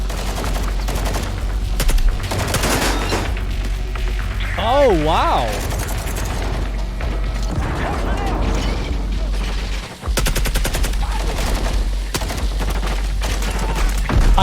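Rapid gunfire and mechanical weapon clatter from the Warzone shooter game play almost without pause, loud and busy, while people talk and exclaim over the top.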